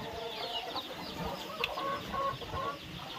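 A country hen on a native chicken farm clucks in soft, irregular bursts close by, with faint ambient noise around it.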